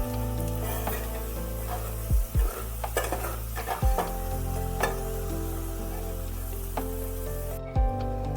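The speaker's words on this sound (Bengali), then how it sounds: "বেশ একটু লাল লাল করে ভাজা হয়ে গেলে পেঁয়াজগুলোকে তুলে রাখতে হবে।" Onions fry in oil in a pan under a steady sizzle, broken by several sharp metallic scrapes and knocks of a spoon stirring against the pan, close and fairly loud with no talk.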